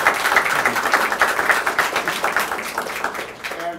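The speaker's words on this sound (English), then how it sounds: "So let's give them a round of applause for that." An audience at a talk on the history of Bay City's Herter Music Center gives a round of applause, a steady crackle of many hands clapping that thins out toward the end.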